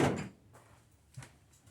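A rubber mallet strikes the oil pan of a 5.3 LS V8 engine during teardown: one solid thud at the start, then two duller knocks spaced about half a second apart, close and moderately loud.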